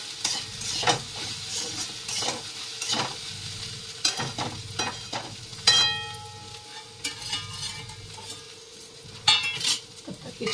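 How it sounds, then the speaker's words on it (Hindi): Turmeric, black pepper, sabzi masala and coriander powder roasting in a pan, with a soft fry hiss under repeated scraping stirs and clinks of a utensil against the pan. "हल्दी ऐड करेंगे और थोड़ी सी ब्लैक पेपर एंड सब्जी मसाला और थोड़ी सी धनिया पाउडर बस इसे भूनेंगे।"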